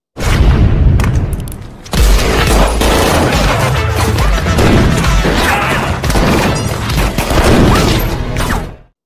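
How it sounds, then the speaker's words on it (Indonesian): A film gunfight between two rival gangs erupts in loud, dense bursts of gunshots and crashing impacts, with a brief lull after the first second before the chaotic firing resumes to the end. "memicu terjadinya baku tembak antara kedua geng tersebut"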